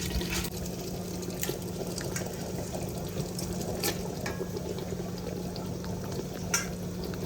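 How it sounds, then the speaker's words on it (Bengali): Mutton masala bubbles and sputters in oil inside a handi, a continuous close wet simmering hiss with faint pops and a low steady hum underneath. "তোমরা দেখতে পাচ্ছ এখানে ভুড়ভুড়ি উঠছে"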